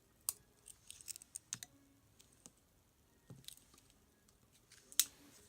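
Small Swiss Army knife scissors being opened and handled up close, a sparse series of sharp metallic clicks and snips with quiet pauses between them, one louder click near the end.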